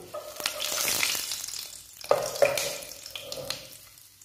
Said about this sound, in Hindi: अच्छी तरह इन खुश्क मसाला जात को अच्छी तरह फ्राई कर लेंगे 2 से 2 मिनट के लिए